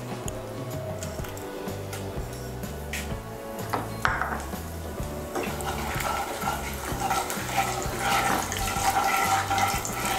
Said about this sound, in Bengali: এর মধ্যে আমি দিয়ে দিচ্ছি তেজপাতা, শুকনো লঙ্কা আর গোটা জিরে ফোড়ন।